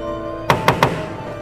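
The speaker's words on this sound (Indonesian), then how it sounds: "terdengar olehnya suara ketukan yang berasal dari ruangan di sebelah kamarnya" Three sharp, evenly spaced knocks come from a neighbouring room in a horror film, fairly close and distinct over a quiet, humming background.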